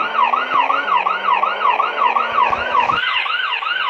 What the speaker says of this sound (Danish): Det er jo politiet udrykning.